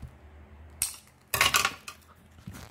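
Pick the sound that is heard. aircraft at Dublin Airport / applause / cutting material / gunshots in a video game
cutting material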